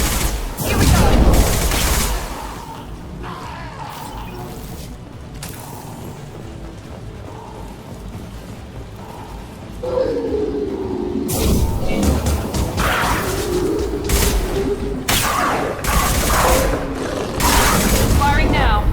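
Bursts of rapid gunfire and impacts crash through a Mass Effect firefight, loud and dense, with stretches of mechanical rumble between volleys and voices talking throughout.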